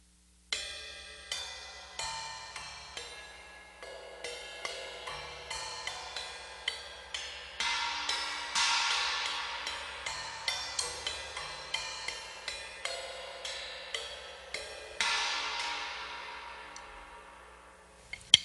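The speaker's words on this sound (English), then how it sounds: "Another cool thing you can do with all your cymbals is you can hit the edge just like this" A drummer strikes the edges of cymbals in a steady series of bright, close hits, each ringing off in a shimmering decay, with a few louder crashing strikes among them.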